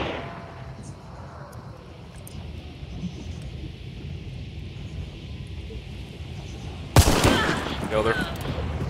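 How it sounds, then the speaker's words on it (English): Gunfire in Hunt: Showdown as a player shoots out a window, a sudden loud burst near the end that cuts through a steady background rumble of the game. "I'm gonna shoot out a window."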